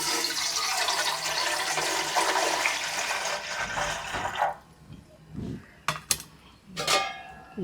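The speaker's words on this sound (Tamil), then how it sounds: "தண்ணியை ஊற்றிடுவோம்." Water is poured into an idli steamer pot in a village kitchen. It comes as a loud, continuous rushing pour for about four seconds, then drops to softer splashes and a few short clinks of the pot.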